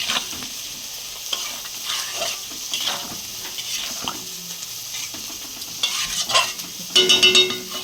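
Spice paste for a rohu-fry fish curry with potatoes is stirred and sautéed in a pan, with steady sizzling, scraping spoon strokes and a few louder clattering stirs near the end.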